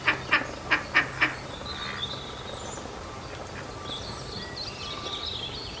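Farm ducks quack in a quick run of five loud, evenly spaced calls, followed by fainter squawks and bird chatter further off.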